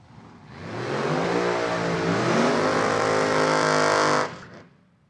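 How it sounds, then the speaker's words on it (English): Supercharged top dragster roaring down the strip on a drag racing run at an NHRA divisional event, loud sustained engine howl for about four seconds before cutting off abruptly. "And it comes in top dragster."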